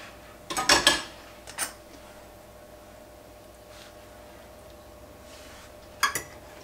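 Stuffed chicken escalopes with ham and cheese go back into a frying pan, with a quick cluster of metallic clinks and knocks from utensils and pan, a short clatter after, then quiet before a final clink.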